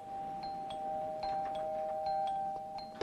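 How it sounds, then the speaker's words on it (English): A jammed doorbell in a house keeps ringing in a series of short repeated chimes over a steady sustained tone, heard fairly faintly with no talking. "I'm afraid I've jammed the doorbell again."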